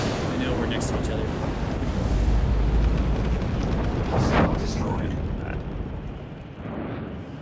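A large radius explosion in the space combat game Star Citizen, during a co-op Vanduul Swarm match, rumbling loud and sustained for several seconds with a deep boom swelling in the middle and fading slowly.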